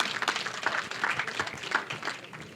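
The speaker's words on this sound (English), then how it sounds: "They deserve an applause." Applause for officials at a welcoming ceremony for the repatriation of Batswana of Namibian descent, a steady mid-level patter of many hands clapping throughout, with no talk over it.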